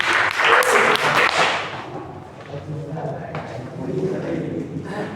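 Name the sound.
applause for group 2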